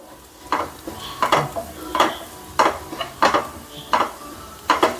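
Fish curry tempering stirred in a pan, with repeated scraping strokes of a spoon and soft sizzling in an irregular rhythm, close and fairly loud, with no voices.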